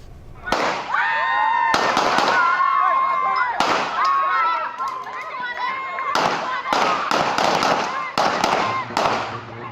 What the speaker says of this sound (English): gunshots ringing out in Fox Hill and screams as nightclub patrons scrabble for their lives